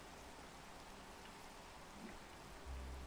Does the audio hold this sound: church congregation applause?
no